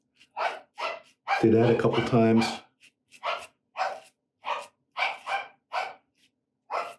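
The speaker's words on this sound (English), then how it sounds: "I don't know if you can hear the dog barking." A dog barks indoors in a house, several short sharp barks in quick succession, one longer howl-like burst early on, heard near and fairly loud, with a person briefly talking at the start.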